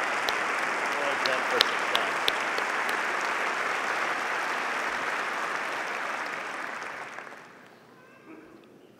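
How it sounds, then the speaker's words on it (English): Audience at a fall graduation ceremony applauds the faculty, a dense, steady wash of clapping from a large crowd that carries on for several seconds before fading toward the end, with a voice speaking briefly. "Everyone, please join me in applauding these tireless individuals"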